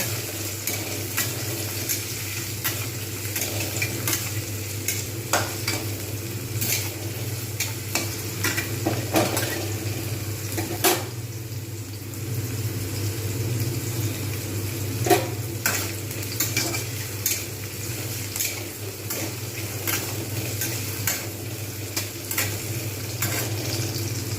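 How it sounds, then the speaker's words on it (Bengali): Onions fry in oil with whole cumin and fenugreek seeds, a steady sizzle broken by frequent scraping and clicking strokes of a spoon stirring the pan, with no talking. "পেঁয়াজ খুব সুন্দরভাবে ভাজা হয়ে গেছে"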